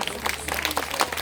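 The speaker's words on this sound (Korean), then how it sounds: "박수." Audience at a concert held in a Buddhist temple breaking into applause, a dense, even patter of many hands clapping at moderate distance with no talking.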